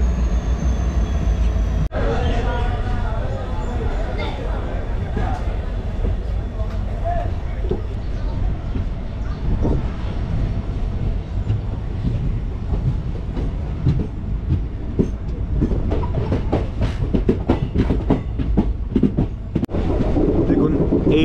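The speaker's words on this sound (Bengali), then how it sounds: "ময়রাবাড়ি গুয়াহাটি প্যাসেঞ্জার।" A Moirabari–Guwahati passenger train runs alongside on the next track, a continuous loud rumble with rhythmic clickety-clack wheel beats and occasional sharp clanks, while people talk over it.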